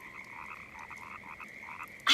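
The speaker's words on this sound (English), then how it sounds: "I hear more frogs." Frogs croak together in a steady, dense outdoor chorus of repeated calls, fairly faint and with no talking.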